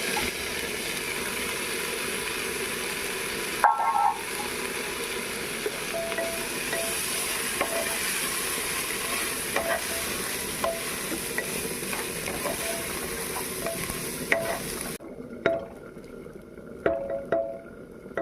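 Butter pulao fries in a pan, a continuous close sizzle under steady stirring with scattered scrapes and clinks of the spoon, and the sizzle drops away near the end, leaving only sparse stirring knocks.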